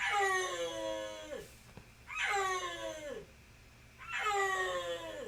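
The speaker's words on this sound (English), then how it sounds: "Instead, they sound like if Lion King showed Simba's awkward teen phase." A big cat of a kind that cannot roar gives three drawn-out, wavering calls that slide downward in pitch, evenly spaced and moderately loud, with short quiet gaps between them and no talking.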